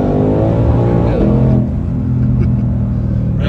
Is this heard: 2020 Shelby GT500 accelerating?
yes